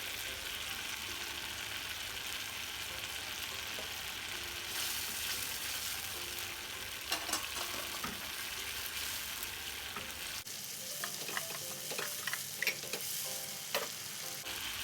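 Chili sambal sizzles steadily in a pan as it is stirred, with broth powder, salt and palm sugar mixed in. A continuous hiss is broken by scattered spatter ticks and scrape-like stirring sounds, close and alone.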